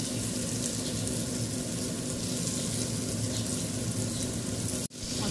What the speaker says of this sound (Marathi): आपल्याला भेंडी भाजून घ्यायची आहे तेलामध्ये